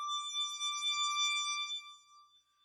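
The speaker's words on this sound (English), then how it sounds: "We're going to wash it in a little bit of a plate reverb." Analog synthesizer patch washed in plate reverb: a sustained bright tone with a stack of steady harmonics, held for about two seconds before fading into a reverberant tail, with no voices.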